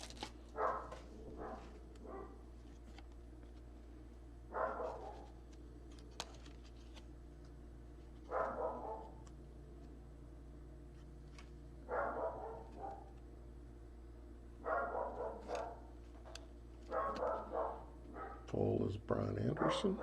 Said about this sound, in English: my pain in the butt dog in the background barking